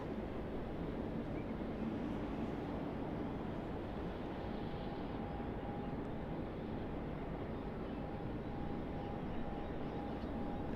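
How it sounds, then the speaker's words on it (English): A United Boeing 777-300ER airliner arriving at Sydney Airport, heard as a steady, distant broadband roar with a faint sustained tone, constant and low in level for the whole stretch with no voices. "We have another heavy arriving as we speak. It's United 777-300ER from San Francisco."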